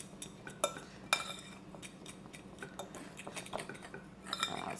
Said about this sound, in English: But we're just gonna mix this together.